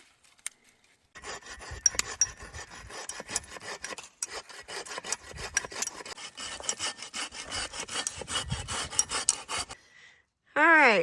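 Firewood is sawn by hand at a Crown Land lakeside campsite in May, with steady rasping strokes repeating for about nine seconds. The sawing is fairly quiet and fades out, followed by a brief louder noise.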